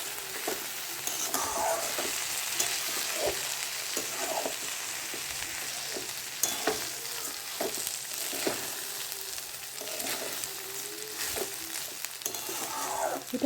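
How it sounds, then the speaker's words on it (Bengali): Rice frying with ginger-cumin paste for basanti pulao is stirred in a pan, a continuous sizzle broken by repeated scraping knocks of the spoon at an uneven rhythm. "দিয়ে এটাকে ভালো করে নেড়ে দেবো।"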